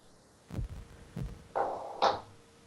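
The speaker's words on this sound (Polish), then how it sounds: "O, słychać zbugowane bicie serca naszej postaci" A glitchy character heartbeat from the video game Fate/Extra: two deep, separated thumps, then bursts of hissing static and a buzzing crackle, fairly quiet with no voices.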